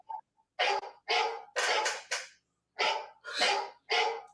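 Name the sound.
phone ringtone of dog barking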